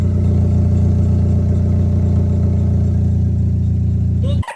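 A Hyundai car with its exhaust cut off idles loudly up close, a deep, rough, steady drone with a pulsing low rumble that holds evenly for about four seconds before cutting off abruptly.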